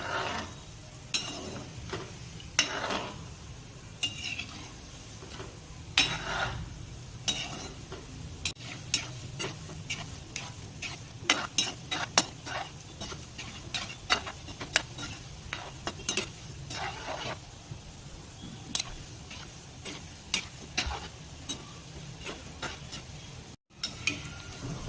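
Sabudana vada fry in hot oil with a soft, continuous sizzle, while a utensil turns them, making frequent light scraping clicks throughout.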